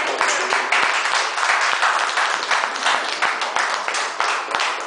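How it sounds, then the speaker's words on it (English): A gathered audience claps their hands together in thanks: dense, close, continuous clapping with sharp individual claps standing out, steady for several seconds with no talk. "I hope that all of us together will just clap a hand together to say yes, thank you"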